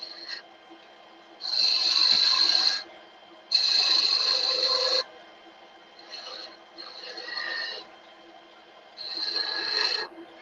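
A spindle gouge cutting a bead into wood spinning on a lathe, giving several separate rasping, scraping passes of a second or two each over a steady low motor hum.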